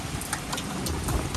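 Heavy tropical rain during the Philippine rainy season, heard from a 27th-floor apartment as a steady, fairly faint broadband wash with wind rumble and scattered soft patters, no voices.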